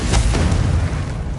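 A single loud, close Confringo spell blast from Hogwarts Legacy, a deep booming burst that rumbles and fades over a second.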